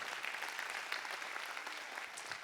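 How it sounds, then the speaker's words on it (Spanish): Congregation applauding during an evening church service, a dense, even patter of many hands clapping throughout, fairly distant and soft. "Den un aplauso al Señor"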